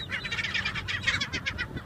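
Birds call outdoors at Laguna Beach in a rapid run of bright, repeated chirps, loud and close, over a low background rumble.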